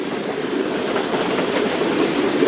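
The Allama Iqbal Express approaches on the track near an abandoned railway station, a steady loud rumble with faint rattling wheel noise and no voices.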